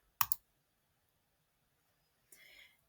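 A computer mouse clicks twice in quick succession to submit an assignment online, crisp and close in a quiet room, followed by a brief soft rustling a couple of seconds later.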